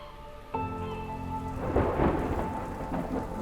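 Thunderstorm with deep rumbling thunder over steady rain, the rumble swelling louder midway and rolling on under a constant wash of rainfall, close and full with no voices.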